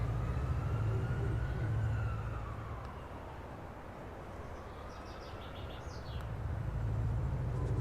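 Police car sirens sweep through the background music of the video game Marvel Rivals, wailing tones rising and falling over a steady low rumble, with no talking.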